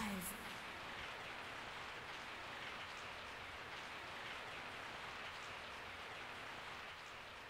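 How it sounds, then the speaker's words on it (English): Steady falling rain from the Resident Evil 3: Nemesis video game forms a continuous, even hiss of dense raindrops across the whole stretch, with no break in its level. "I woke up to the sound of falling rain."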